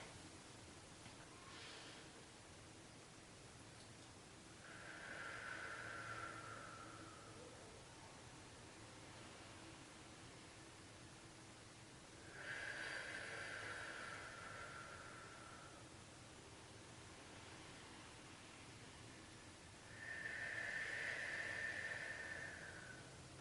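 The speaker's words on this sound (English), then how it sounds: "Let's take some deep breaths" Deep breathing during a prayer breathing exercise, three slow, soft airy breaths spaced several seconds apart over faint background hiss.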